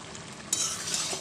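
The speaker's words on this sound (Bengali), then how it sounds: "এইভাবে কিছুক্ষণ ফুটিয়ে নেব।" Spicy vegetable curry bubbles and sizzles in a pan, a soft hiss that jumps louder halfway through into a steady close frying crackle, with no talking.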